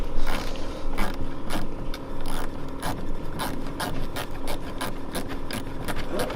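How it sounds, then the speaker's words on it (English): A ratcheting screwdriver driving a screw during a rock defense bumper install on a 1995 4Runner, steady close clicking and grinding in a quick repeating rhythm over a rough mechanical rasp. "We had to get this special tool today. It's like a socket wrench, but for a screwdriver."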